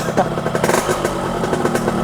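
Yamaha RX King motorcycle engine running close by, a loud, rough two-stroke burble with rapid pulsing rhythm throughout the short stretch.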